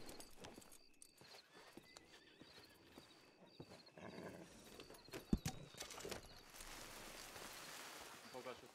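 A horse in the role-play game El Rancho RP whinnies and clops its hooves, faint and mixed with scattered knocks, movement noise and a quiet speaking voice.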